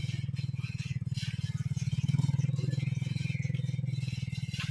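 Motorcycle with a stiff, hard-to-shift gearbox idling and being ridden near the sea, a steady low rhythmic engine putter throughout with faint clatter and scraping on top, close and continuous.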